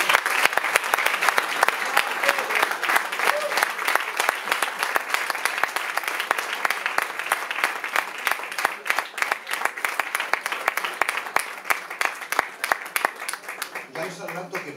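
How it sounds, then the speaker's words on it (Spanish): A crowd at a tribute event gives strong, lasting applause for the musicians Nadir and Moncho, with dense clapping that grows more scattered toward the end while a voice talks over it. "quiero que le den un fuerte aplauso a Nadir y a Moncho"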